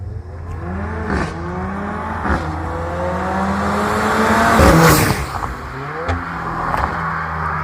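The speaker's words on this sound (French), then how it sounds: "Alors les gars, c'est abuser le son moteur." A stage 2 tuned car with a Milltek exhaust, around 440 hp, revs and passes by loudly, with several rising gear-change sweeps and a sharp peak as it goes past, no talking.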